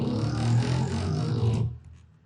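A thick, buzzing synth bass growl made with FL Studio's 3xOsc sounds steadily for about a second and a half, then cuts off abruptly, leaving a short fading tail.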